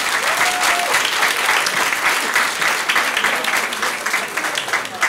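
A crowd at a public event on climate and farming claps for a speaker, loud and sustained, with a few brief voices or cheers rising over the dense, steady applause.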